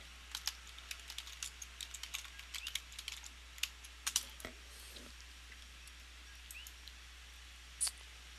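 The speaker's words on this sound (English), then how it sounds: "I'll type in pronounce Jainism." Typing on a computer keyboard, close and moderately quiet: quick irregular clicks in short runs for about four seconds, then a few scattered keystrokes over a low steady hum.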